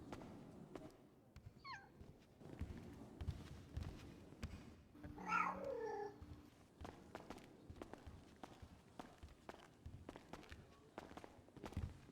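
A cat gives one clear, drawn-out meow in the middle, set against quiet footsteps and soft shuffling; some faint chirps appear earlier.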